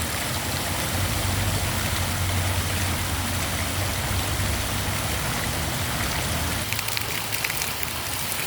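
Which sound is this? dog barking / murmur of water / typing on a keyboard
murmur of water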